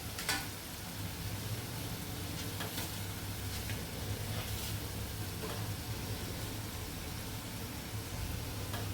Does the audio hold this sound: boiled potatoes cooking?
yes